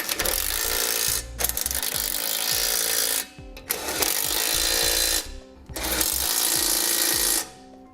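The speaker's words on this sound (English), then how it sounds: "using a 3/4 inch socket, I'm going to snug it all up" A 3/4 inch socket on a ratchet tightens the hardware of a B and W Companion OEM 5th wheel hitch with slider on a 2017 truck, giving loud, fast ratcheting clicks in three long bursts with brief pauses.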